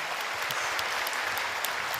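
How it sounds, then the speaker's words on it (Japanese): A church congregation claps in blessing at a gathering in Shimonoseki, steady, full applause sustained across the whole stretch, close and even. "우리 서로를 위해서 축복의 박수를 하겠습니다."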